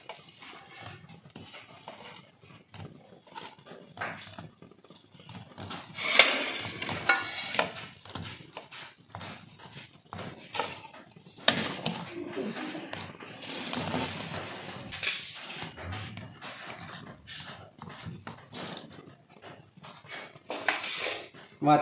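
Metal utensils clink and scrape against a pot as fried kala jamun are moved into sugar syrup. The clatter is steady and close, with soft liquid sounds between the knocks and no speech.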